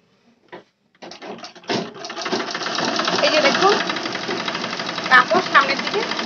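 A sewing machine runs continuously with a fast, close mechanical rattle while the fabric fails to feed forward, stuck at the feed dogs, after a few brief starts; a voice talks over the machine.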